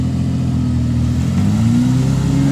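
A modified rig's engine held pinned in second gear while pulling another car, giving a loud, steady, close drone whose pitch climbs slightly partway through.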